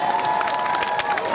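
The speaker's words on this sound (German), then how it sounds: "Applaus." An outdoor park concert crowd claps and cheers loudly, dense continuous applause with shouts mixed in throughout, no speech over it.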